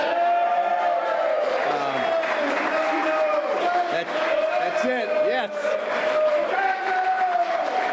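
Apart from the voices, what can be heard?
crowd cheering at a send-off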